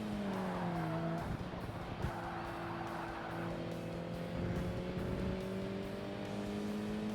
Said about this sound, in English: I know when I start to hear it wind up in third gear, it's about time to brake.